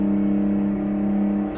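Detroit Diesel 6V92 two-stroke engine in a Mack R truck accelerating in American Truck Simulator, a steady loud droning whine with strong harmonic tones held throughout, no talk.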